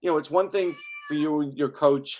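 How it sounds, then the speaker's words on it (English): A pet cat meows in a long, drawn-out tone between stretches of conversation, heard close by while people keep talking around it. "That's my cat"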